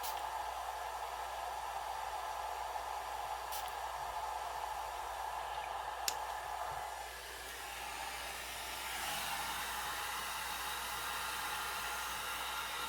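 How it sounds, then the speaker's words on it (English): A hair dryer on its low setting runs continuously to dry alcohol ink, a steady close rushing blow with a slight shift in tone partway through, with no other sounds. "Then I put my dryer on low"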